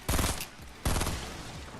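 Two short bursts of burst-rifle fire in the Fortnite battle royale game, each a tight rapid cluster of shots, separated by a brief pause and moderately loud.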